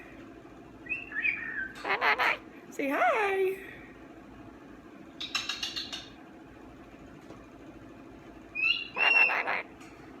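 A pet cockatoo gives several short whistled squawks and chirps between a person's talk indoors, with near, moderately loud calls at the start, in the middle and near the end.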